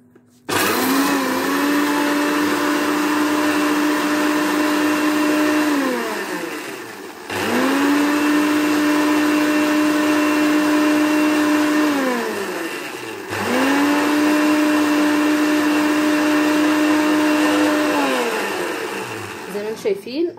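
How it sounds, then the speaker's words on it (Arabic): A blender whips oil for homemade sesame tahini in three long, loud whirring runs that rise to a steady pitch, each stopping briefly before starting again, close and dominant with little else audible. "معلش انا اسفه على صوت الخلاط"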